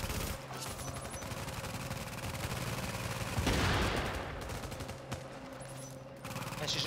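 A deployed automated turret in The Division fires steady, rapid bursts of gunfire that run through the whole stretch at moderate distance, with a louder swell midway over a constant background hum.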